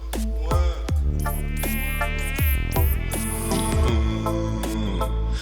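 A mosquito whines with a buzzy tone over a bed of musical sound, punctuated by several sharp thumping hits.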